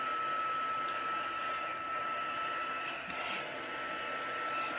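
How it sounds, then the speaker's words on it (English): An embossing heat tool preheating and blowing hot air, a steady, fairly quiet whirring hiss with a fan whine, unbroken for several seconds and heard close up without speech. "So I'm just preheating my heat tool"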